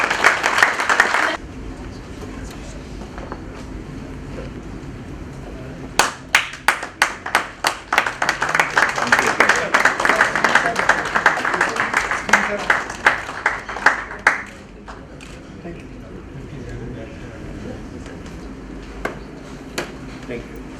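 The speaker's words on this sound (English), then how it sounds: "a big round of applause" Audience clapping at a foundation day celebration, with a stretch of scattered claps building into a dense round of applause mid-clip, then thinning to isolated claps; people talk over the room noise before and after.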